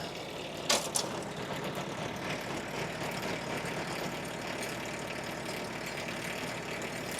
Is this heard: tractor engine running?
yes